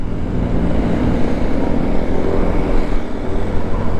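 A motor scooter engine drones steadily while being ridden, close and loud, with wind rumble beneath it. A slight pulsing rhythm runs through the sound, and there is no speech.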